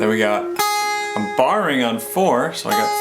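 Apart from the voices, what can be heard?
None of the usual background noises is heard.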